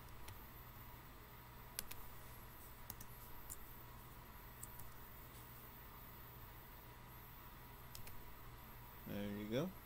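Light keyboard typing by a one-handed typist, with sparse faint clicks and taps spread across a quiet background and a voice speaking near the end.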